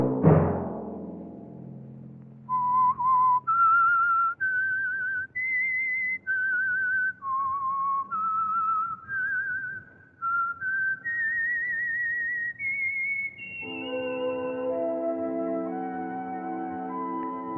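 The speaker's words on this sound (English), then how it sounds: "Let that whistle be your signal for the signal oil program, The Whistler" A melodic whistled theme for the radio show The Whistler plays alone, a clear, loud sequence of sustained notes rising and falling in steps, ending on a held tone over orchestral chords.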